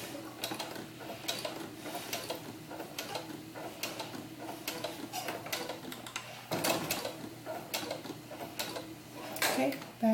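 A home sewing machine runs a regular quarter-inch seam in faux suede for a doll vest, backstitching at the start. Its needle ticks out a steady, close, moderate rhythm with a brief pause partway.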